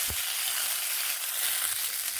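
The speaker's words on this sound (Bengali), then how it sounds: "একটুখানি নেড়ে দিচ্ছি" Flat beans frying in a pan as they are stirred, a steady close hiss of sizzling oil with a brief low scrape near the start and no voices.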